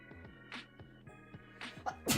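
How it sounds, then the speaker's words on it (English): A single sharp sneeze bursts out near the end over quiet background music, preceded by a couple of smaller breathy bursts. "Oh, I have to sneeze."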